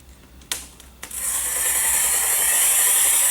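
A glass cutter scores a line across thick quarter-inch plate glass, starting with two sharp clicks before settling into a steady, close, high-pitched scratching hiss that runs continuously to the end.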